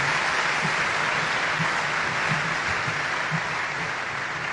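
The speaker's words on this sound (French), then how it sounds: "je voudrais qu'on applaudisse très fortement la première dame de la République" An audience at an event with the Congolese president and comedians applauds the first lady, a steady, dense wash of clapping that holds evenly throughout with no talk over it.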